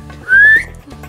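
A child whistles a single rising, sustained note lasting about a quarter second, clear and close, set against a quiet room with low background hum.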